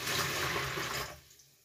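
Water pouring into small canisters, a dense, rushing splash lasting just over a second before cutting off sharply into near silence.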